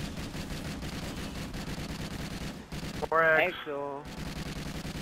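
Rapid, continuous automatic fire from a sentry gun in Call of Duty Ghosts Extinction rattles steadily for most of the moment. It breaks off briefly while a voice speaks, then resumes.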